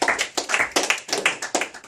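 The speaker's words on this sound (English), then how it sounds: "Give yourself a round of applause." A small group claps for about two seconds, a short burst of uneven applause close by.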